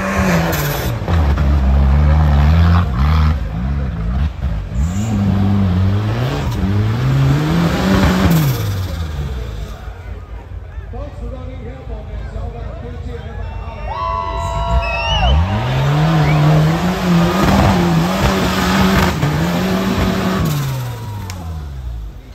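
Off-road rock bouncer and UTV racing engines rev and roar hard at the Dirty Turtle Offroad park, rising and falling in loud bursts as vehicles pass, with a crowd cheering over them.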